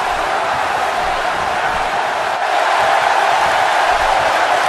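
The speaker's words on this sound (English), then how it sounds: "This crowd firmly behind Trunks here." Wrestling event crowd cheering during a match, a dense continuous roar of many voices that stays loud and steady throughout.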